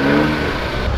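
A car revs hard as it pulls away from an event, a loud, close engine roar held for a brief second with no voices over it.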